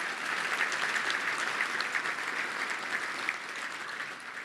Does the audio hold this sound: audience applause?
yes